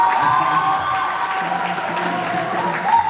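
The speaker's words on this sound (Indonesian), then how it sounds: "Jadi tepuk tangan buat keberhasilan Kendris." Audience applause and cheering at an Indonesian television talent show, a steady dense wash of clapping and crowd noise over music, loud and continuous throughout.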